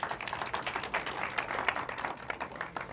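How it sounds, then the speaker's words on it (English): An audience applauds a speaker at a preshow event, a fairly faint, steady patter of many hands clapping for a few seconds. "A round of applause for her."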